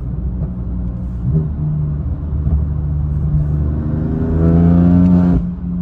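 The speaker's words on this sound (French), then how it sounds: "c'est vraiment le son bête de la M3" A BMW M3 engine revs hard and close, its deep rumble rising in pitch through several pulls before cutting back near the end, with no talking.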